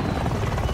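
Helicopter in the video game Warzone, a steady, loud, dense rotor thrum filling the moment without pause.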